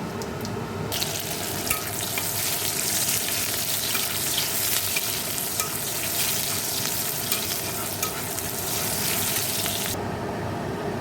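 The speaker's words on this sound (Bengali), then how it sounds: "তো এখন ডালটা মানে পেঁয়াজটা ভাজবো" Loud, continuous sizzling of onions frying in a wok for dal tempering, with a watery hiss throughout and no talking.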